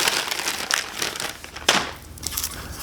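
Plastic packaging peeled off a Roainey digital HD TV antenna, close and continuous crinkling and crackling with a sharper rustle partway through.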